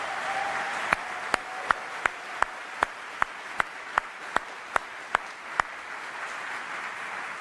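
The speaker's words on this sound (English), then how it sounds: "So big round of applause for Michelle." An audience applauds at a US Army retirement ceremony: a steady wash of crowd clapping with sharp, evenly spaced single claps cutting through it at a regular beat for several seconds.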